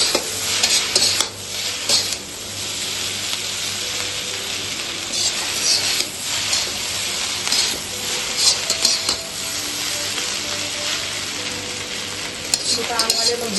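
Chow mein noodles with salt and red chili are stirred in a pan, a continuous loud sizzle broken by frequent spatula scrapes and metallic clinks against the pan, close by, with no one talking.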